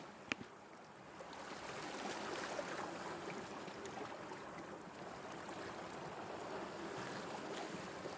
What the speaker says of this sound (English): I can see the waves are creeping up on me here.